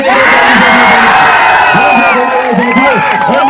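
A large rally crowd for Chirag Paswan in Gaya cheers and shouts loudly and continuously, whoops and yells rising together with a voice ringing over the noise.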